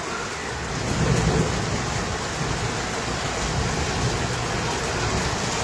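Heavy rain driven by strong wind during a sudden downpour in Padra, a steady dense roar of rainfall with gusty rumbling, close and continuous throughout with no talking.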